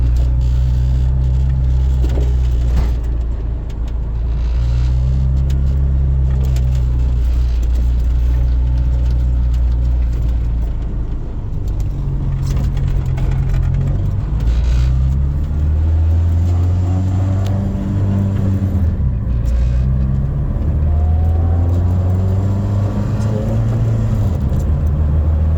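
A Volkswagen Rabbit pickup truck driving, heard from inside with a loud engine rumble that rises and falls through repeated accelerations and gear changes, with road noise and no speech.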